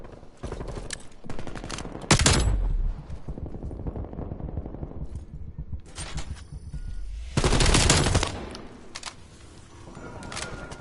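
Submachine gun fire in a competitive Call of Duty hardpoint scrim, heard as several loud rapid bursts with quieter shots and game noise between them.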